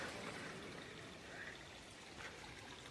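A small stream flows through dense forest in Tamhini Ghat, a steady, soft rush of running water that continues evenly with no break.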